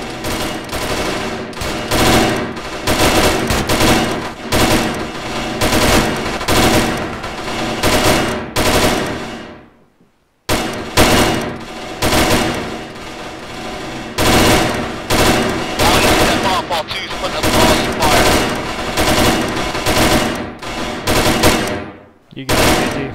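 Automatic rifles firing in a military video game, long loud bursts of rapid gunfire filling most of the clip, broken by a brief gap, with no clear talk over it.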